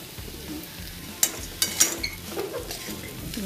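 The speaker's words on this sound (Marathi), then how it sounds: "परताना आपल्याला थोडंसं असं दाबून परतायचं आहे." Spicy vada potato stuffing being sautéed in a pan and pressed down while stirred, giving a low steady sizzle broken by a few sharp scrapes and clinks of the utensil against the pan.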